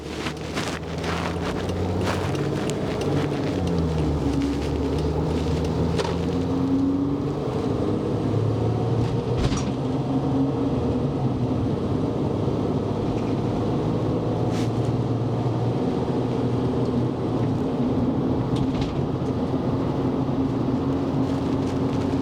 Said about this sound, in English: I'm hitting the gas.